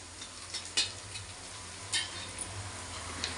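Onions and curry leaves frying in a pan for chicken curry, a steady sizzle with a few sharp clinks of a spoon stirring against the pan, close and clear with no talk.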